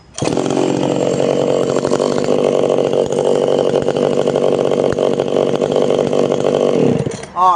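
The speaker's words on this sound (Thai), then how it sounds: "ซ่อมเรียบร้อยแล้ว มาทดสอบกัน เปิดสวิตช์ สตาร์ทครับ" Tanaka PM340 pruning chainsaw, cold engine, started after a fuel-system repair: the two-stroke engine catches quickly and runs loud and close at a steady high buzz for about seven seconds, then cuts off abruptly.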